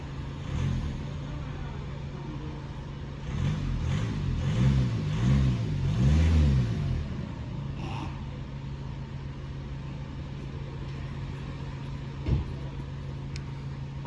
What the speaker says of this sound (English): Okay, some baby revs to just finish it, just for the sake of comparing.